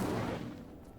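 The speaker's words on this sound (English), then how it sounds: "全点火啊！ Incendio! 这里点火啊！" Incendio fire spell cast in Hogwarts Legacy, a short heavy burst of flame with a low rumbling whoosh that fades over about a second.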